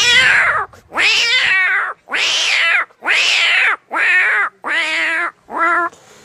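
A voice mimics cats fighting: seven harsh, strained yowls and screeches in quick succession, loud and close, with no other sound.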